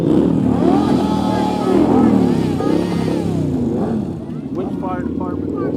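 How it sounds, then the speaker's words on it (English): Motorcycles roll past in a Christmas parade, their engines rumbling and revving loudly up close, with the sound easing slightly as they move along. "I guess the motorcycles are part of their group."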